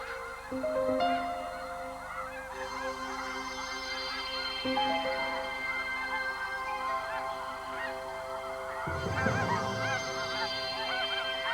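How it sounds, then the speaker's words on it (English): A flock of flying geese honks continuously, many overlapping calls near and far, steady and loud throughout, rising into a denser burst of honking near the end. "During their flights, the geese don't see the potential danger, but they do notice the food."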